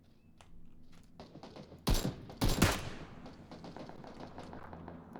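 Gunfire in a video game: a couple of loud, sharp bursts of shots close together near the middle, then quieter scattered shots and thuds over a busy background.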